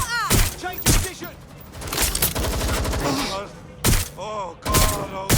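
Rapid gunfire bursts in the game Watch Dogs: Legion, loud sharp cracks recurring across the scene, mixed with a voice and game music.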